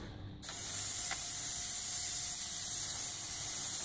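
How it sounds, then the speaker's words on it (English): An airbrush sprays thin paint from a color cup with a compressor set to about 20 psi: after a brief quiet moment a steady, loud hiss starts and continues unbroken to the end. "I just did a few test sprays."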